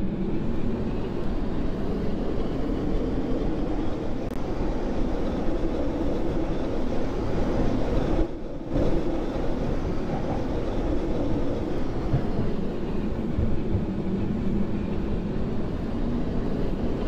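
A Roblox tram on Bathwick town Line 4 runs toward Arnold Interchange with a steady, loud low rumble and rolling drone that continues throughout, dipping briefly once partway before resuming.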